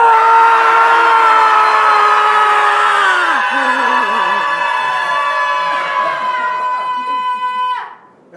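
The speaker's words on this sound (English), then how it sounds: "Should we do 1, 2, 3, scream?" An audience at a lecture on the psychiatric survivor movement screams together on a count of three, a loud sustained chorus of voices that holds for several seconds, thins out, then drops away sharply.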